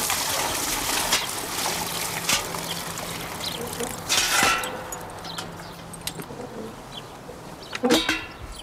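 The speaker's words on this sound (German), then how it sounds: "Das laufend benötigte Wasser schöpfen Herr Kloß und Herr Müller unterdessen wieder aus dem Brunnen im Hof." Water is scooped and poured from a well in a farm courtyard, with a soft trickling and splashing that rises into brief louder pours and clanking of the vessel, heard fairly close and without talk.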